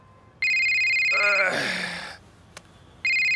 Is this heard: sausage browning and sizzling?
no